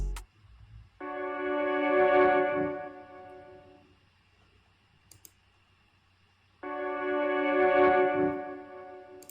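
A layered synth processed with EQ, Echo Boy delay and left-right panning in an orchestral trap beat plays two sustained harmonic chord swells of about three seconds each, separated by a quiet gap, clear and alone with no voices.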